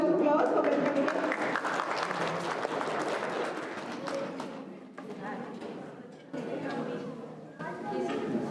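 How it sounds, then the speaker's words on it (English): Audience applause welcoming a young speaker at a B. R. Ambedkar birth celebration in Lansing, Michigan, moderate clapping that thins and dips partway through, with voices talking over it. "Let's give him a round of applause for welcoming him."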